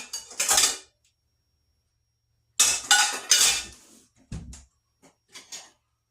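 A bowl and spoon clatter while squash casserole is served, giving several separate close clinks and scrapes of ceramic and metal with quiet pauses between them and no talking.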